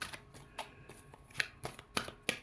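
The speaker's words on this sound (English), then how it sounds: "I'm going to shuffle one more time." A deck of tarot cards is shuffled by hand in a series of quick, close riffles and snaps, about a dozen sharp flicks in a loose irregular rhythm, with no talking.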